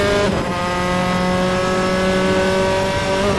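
A race car's engine in Assetto Corsa at Oulton Park revs under throttle, loud and close, a bright harmonic drone that steps up in pitch early and then holds a steady, strained note.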